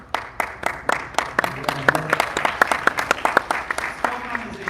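Audience at a San Diego Comic-Con 2024 Masters of the Universe panel breaks into applause, scattered distinct claps building into a quicker patter, with voices audible underneath.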